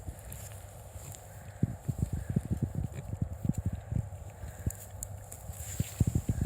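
Wild boars moving about on a farm in early spring, giving off scattered short thuds and shuffling footsteps over a steady low rumble, with irregular dense bursts of movement close by.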